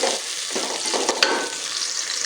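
Tomatoes browning in a pan with garlic-ginger paste for a dal and sabzi dish, giving a steady sizzle and fry with stirring scrapes, close and continuous, with no talk over it.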